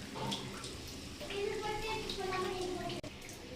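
Spinach greens being rinsed and stirred in water in a home kitchen, a continuous splashing, running-water wash with a few faint clinks, under someone speaking.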